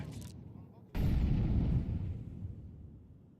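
A grenade blast in a shooter game detonates with a sudden loud boom after a short lull, then rumbles and decays slowly over a couple of seconds.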